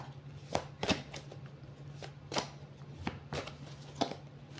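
A deck of oracle cards is shuffled by hand, giving a series of crisp riffling and sliding bursts at an uneven pace. The sound is close and moderately loud, with no speech.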